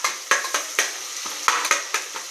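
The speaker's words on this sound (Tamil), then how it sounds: "இது கூட வெங்காயம், பச்சை மிளகா, கடுகு, சோம்பு போட்டு வதக்கிக்கிட்டு இருக்கேங்க" Onion, green chili, mustard seeds and fennel sauté in hot oil, and a spatula scrapes the pan in quick, regular strokes over a continuous sizzle, close and clear with no talking.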